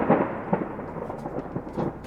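Deep thunder rumbles through a storm at sea around a sailboat off the Greek islands, rolling continuously at moderate loudness with a few heavier bursts and no voices.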